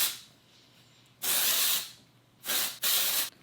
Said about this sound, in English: So we're gonna put some texture spray in.